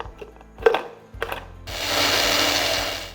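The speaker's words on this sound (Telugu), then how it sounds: "ముందుగా ఈ మసాలాన్ని కూడా మనం మిక్సీ పెట్టుకుందాం." A mixer grinder whirs into action on dry masala of coriander seeds and garlic cloves, a short burst of motor roar after a few clicks and knocks, holding steady at close range.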